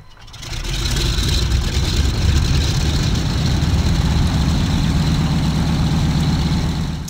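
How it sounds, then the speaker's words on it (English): Twin engines of a C-47 transport plane crank and catch in the Aces High 2 flight game, swelling within a second into a steady, loud, low rumbling drone that holds evenly without talking. "So now we've cranked up our mighty engines."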